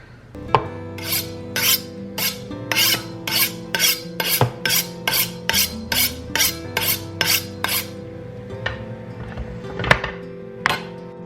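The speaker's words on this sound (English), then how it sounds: "I hope you guys enjoyed my wicked knife honing skills" A kitchen knife is honed with a run of about twenty evenly spaced, close metallic scraping strokes, each short and bright, slowing to a few scattered strokes at the end, with no talking.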